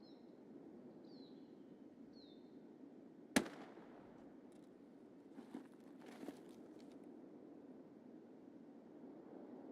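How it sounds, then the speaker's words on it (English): A single sniper gunshot in the video game Escape From Tarkov cracks out sharp and brief against a quiet, hissy background, followed by a few faint scattered clicks. "He just got sniped by somebody"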